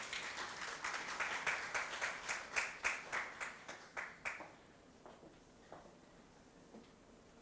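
Applause from an audience at a legal reform panel on violence against women, a steady round of clapping that fades out after about four seconds, leaving a few scattered claps in a quiet room.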